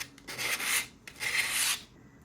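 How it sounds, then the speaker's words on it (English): Sandpaper of 180 grit rubs across a plastic Breyer horse model in two short scratchy strokes, close and fairly quiet with no talking. "I'm just gonna try and sand it down first. I got a 180 grit"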